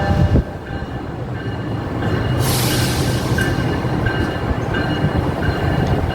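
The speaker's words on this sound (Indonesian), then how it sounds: "di sini bertemu dengan kereta api Sanjaka kalau nggak salah dari Surabaya Gubeng tujuan Yogyakarta" The Sancaka passenger train from Surabaya Gubeng to Yogyakarta rumbles through an Indonesian railway station, steady mechanical roar and rolling wheel noise building after a brief sharp hiss, continuous and fairly close.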